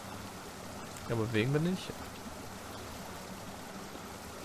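Flowing water in the video game The Last Dream keeps up a steady, moderate rushing hiss throughout, with someone speaking German briefly over it.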